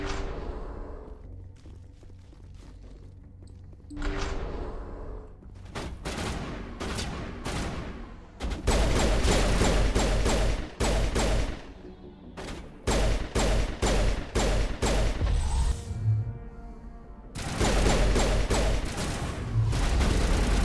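Repeated loud pistol shots and bursts of gunfire from the Mass Effect video game on Insanity difficulty, sharp cracks spaced irregularly with booming impacts and short gaps of quieter ambience between volleys.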